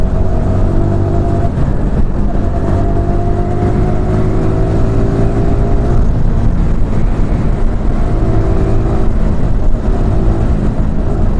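Motorbike engine running steadily throughout a ride, a loud close droning hum with shifting pitch as the bike speeds up and eases off, with no talk.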